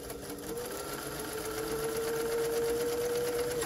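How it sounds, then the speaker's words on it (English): A sewing machine runs a continuous zigzag stitch attaching elastic to a doll romper sleeve, a steady close whirring hum with a pitched whine, without pauses or talking. "you're going to set the sewing machine for a zigzag stitch"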